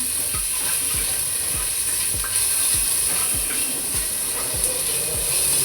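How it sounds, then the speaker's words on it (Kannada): Onion, tomato, green chili and fresh ginger fry in hot oil as a tempering, a steady close sizzle with a regular series of scraping stirs roughly every half second. "ಕಾಯಿ ಮೆಣಸು ಹಸಿ ಶುಂಠಿ ಎಲ್ಲ ಹಾಕಿ ಒಗ್ಗರಣೆ ಕೊಡ್ತಿದ್ದೀನಿ"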